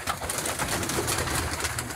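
Teddy pigeons in a loft keep up a dense, steady cooing, several birds close together with soft overlapping calls throughout.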